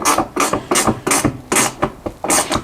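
A ratchet tightens footwell bolts on a Can-Am Outlander ATV during a steel footwell install, giving repeated close, loud bursts of rapid pawl clicking with short pauses between strokes.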